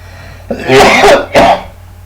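Someone nearby clears their throat and coughs in two loud, harsh bursts about a second apart, with no talking around them.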